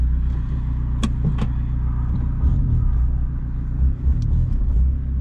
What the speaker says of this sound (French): je reprends le volant de la Seat